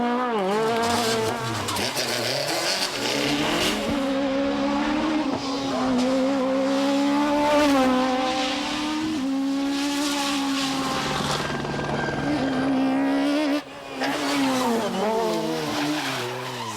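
A Renault Clio kit car screams along a French rally stage in 1995 at high revs, the engine note rising and falling through gear changes with tire squeal, loud and close throughout.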